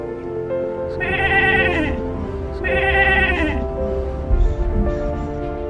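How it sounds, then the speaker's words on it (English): A sheep bleats twice in long, wavering, nasal calls, loud and close, with a short pause between them, over a low steady background rumble outdoors. "Oh yeah, look at him. It's a sheep."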